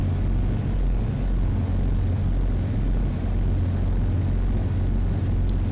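Steady, loud drone of a plane's engine in Flight Sim World on a London approach, continuous and unchanging throughout with no talking.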